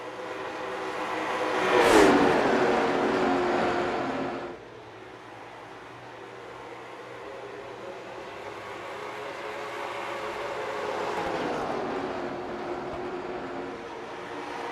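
Late model stock cars race around the Iowa Speedway oval. One car roars loudly past nearby, its engine pitch dropping, then a steadier, more distant engine drone carries on with another swelling pass.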